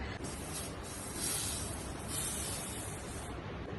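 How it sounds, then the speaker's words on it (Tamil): Garnier Invisible Air Mist sunscreen sprays in one long, steady, close hiss that runs nearly the whole moment, with slight swells and no voices. "ஒரு மாதிரி ஸ்ப்ரே டைப்ல இருக்க ஒரு சன்ஸ்கிரீன்"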